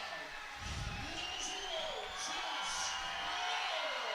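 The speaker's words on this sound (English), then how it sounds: "the Farmington Cardinal crowd has come to life" Home crowd at a Farmington Cardinals boys high school basketball game, cheering and whooping in a gym, a steady roar of many voices with scattered shouts and whistles throughout.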